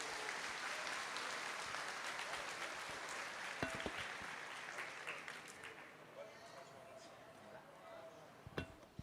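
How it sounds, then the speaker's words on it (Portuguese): A church congregation applauding during a service, a quiet, steady wash of clapping heard from a distance, with faint clinks and a few sharper knocks near the end. "Pode aplaudir ao Senhor."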